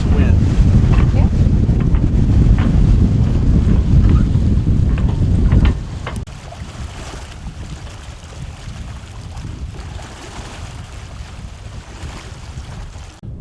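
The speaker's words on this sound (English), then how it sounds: "We got both sails up and no motors going." A sailboat under both sails with no motor running, doing about four knots in roughly twelve knots of wind: loud steady wind rush and water wash against the hull, dropping to a softer steady swash partway through.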